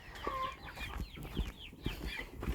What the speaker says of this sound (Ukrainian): Буду виганяти курчаток на вигул